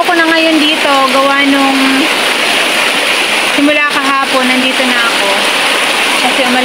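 Steady heavy rain pours down on a farm, a dense constant hiss, while a voice talks over it for much of the time.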